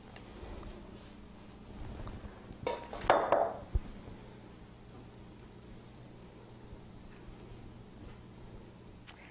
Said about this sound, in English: Get a little spatula and get all this out.